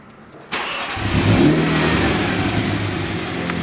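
A click, then the engine of a 2018 Mini John Cooper Works, started by push button, cranks and catches, settling into a steady idle hum close by.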